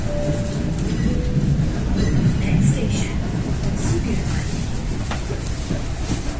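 Japanese-built JR 205 or Chinese-built CLI 125 commuter train riding near Sudirman station, heard from inside the car as a steady, low rumble of wheels and motors with faint voices talking underneath.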